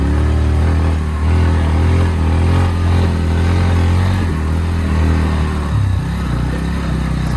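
A motorcycle engine rumbles and revs on a cold morning in Dhading, Nepal, with a steady loud, low drone and slight shifts in pitch as the throttle changes, close by and with no talking.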